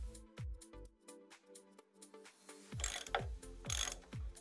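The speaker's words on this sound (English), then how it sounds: "You'll need a 5/8 spark plug socket wrench to remove them" A spark plug socket wrench ratcheting to loosen spark plugs, giving a run of quick, distinct mechanical clicks that become louder and denser toward the end, close and alone.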